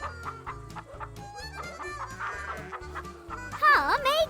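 Rooster clucking in an animated family film, a run of short clucks over a steady music bed, ending in a louder, higher squawking burst near the close.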